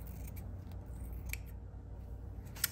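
Scissors cutting fabric during a slow stitching project, a few soft crisp snips spaced out over quiet room tone, close and fairly faint, with one sharper snip near the end.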